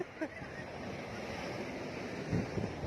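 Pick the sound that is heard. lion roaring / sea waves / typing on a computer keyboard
sea waves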